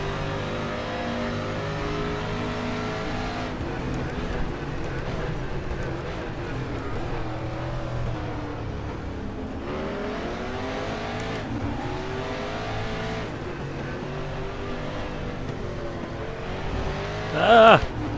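A 1992 Mustang DTM race car engine in a racing video game roars and revs through gear changes at the Nürburgring GP, pitch rising and falling repeatedly, with a brief tire squeal near the end.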